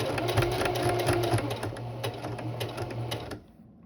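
A sewing machine stitches a Kakashi jonin vest in a rapid, steady mechanical whir, close and fairly loud, then stops abruptly near the end, leaving quiet.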